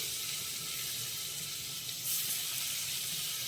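Sliced capsicum and cabbage sizzle in melted butter in a pan, a steady, fairly faint crackling hiss with a brief louder burst partway through and no talking.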